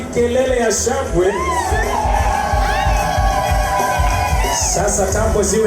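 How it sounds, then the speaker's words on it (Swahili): A crowd cheers at a wedding send-off celebration. Shrill ululating whoops and shouts sound over a dense, steady crowd roar, with voices mixed in throughout. "Kelele ya shangwe."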